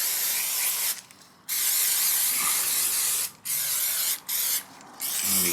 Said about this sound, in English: Spray this down. It's got a protective coating on it so it doesn't rust. Obviously we don't want that. It's a bit of brake cleaner.